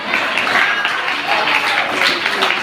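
Congregation clapping hands during a Pentecostal Sunday church service, a dense steady patter of many hands filling the room with faint voices mixed in.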